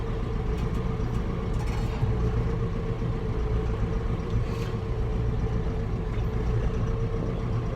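A farm tractor's engine runs steadily at idle in cold winter weather beside a barn, producing a continuous low rumble and throb that stays close and even throughout.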